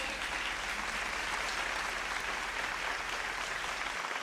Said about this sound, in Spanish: Denle un fuerte aplauso. A Dios, a los músicos.